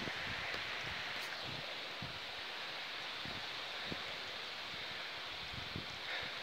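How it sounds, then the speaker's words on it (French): Strong wind rising at the start of a gale sends a continuous broad rush through tree leaves, with steady rustling and scattered soft knocks, outdoors and fairly loud. "Le vent se lève, regardez-moi ça."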